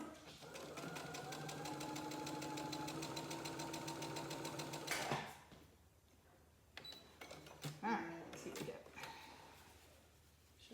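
A sewing machine runs steadily for about five seconds, stitching quilt pieces for a checkerboard quilt, then stops; afterward come quieter handling noises, scrapes and clicks of fabric and tools nearby.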